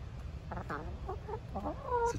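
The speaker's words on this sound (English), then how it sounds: "Chicken biting on my hand." Chickens cluck and squawk close by among wood chips in a backyard garden, a run of short clucks rising to a louder drawn-out squawk at the end over a steady low background rumble.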